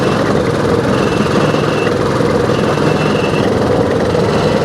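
Sugarcane juice press machine running at a busy roadside stall in Indonesia, giving a loud, steady mechanical drone with no breaks, close by and continuous.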